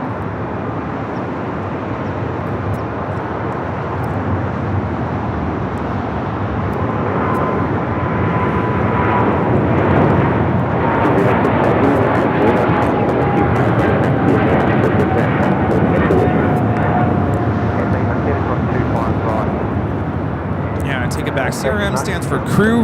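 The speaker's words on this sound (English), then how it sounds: "Also just at Air New Zealand, the flight coming from Auckland, just arriving here on the south side" An Air New Zealand airliner arriving from Auckland and landing on LAX's south side, heard as a broad, steady, loud roar that swells slightly and sustains for over twenty seconds, with faint talk mixed in.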